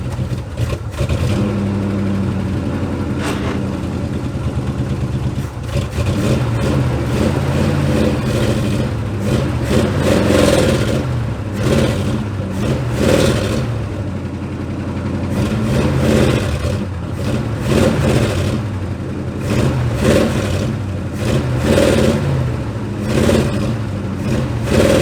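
A 1976 Ford F150 pickup, abandoned for decades with stuck rear brakes, revs its engine repeatedly in loud, surging bursts over a rough, continuous idle.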